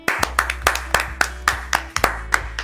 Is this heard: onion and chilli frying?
no